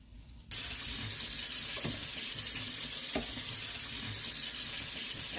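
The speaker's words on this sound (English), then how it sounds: "I'm going to pour these into a colander, into our sink, and drain them off." Grapes and water poured from a pot into a colander in a kitchen sink, a sudden steady loud rush of splashing, draining water that starts after a brief quiet moment and continues without pause.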